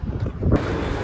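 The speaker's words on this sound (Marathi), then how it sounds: "वारा सुसाट सुटलेला आहे." Strong wind blowing across an open ground in coastal Konkan, a steady roaring rush buffeting the microphone, loud and close with no voices.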